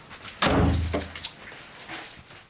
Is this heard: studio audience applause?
no